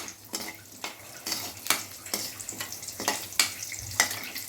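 Bay leaf, cinnamon, cloves and biryani masala fry in a pan, heard as a soft sizzle under repeated stirring scrapes and spoon taps against the pot.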